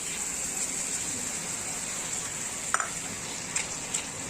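Ground onion paste frying in hot oil, a steady high crackling sizzle throughout with a few soft knocks from stirring near the end, close and moderate in level, without voices.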